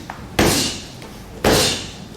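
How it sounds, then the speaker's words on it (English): Two heavy hammer fist blows thud onto a training pad during pistol retention practice, loud and close, with fainter taps in between and no speech. "Then we have a couple of hammer fists"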